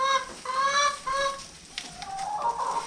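Lohmann Brown laying hens in a flock of about 150 birds clucking and honking, a few loud nearby calls in a short repeating series, with more scattered squawks and coop noise following.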